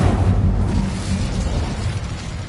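The Incendio fire spell in a video game erupts with a loud, close whooshing blast that settles into a dense, crackling roar for the rest of the moment.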